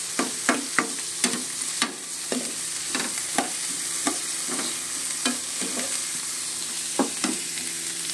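Bitter gourd (ampalaya) sautéing in a pan, a steady close sizzle broken by about a dozen sharp spatula scrapes and taps in an uneven rhythm, with no voices.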